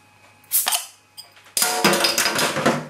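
A purple-capped bottle of Windsor and Eton Brewery's Kohinoor Diamond Jubilee India Pale Ale, 5% ABV, is opened up close: a few metallic clicks from the cap, then a sudden loud hiss of escaping gas that fizzes on.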